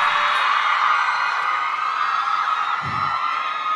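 A steady wash of crowd noise with screams and cheers at a fan fair event runs throughout, loud and dense, with a brief low thump near the end.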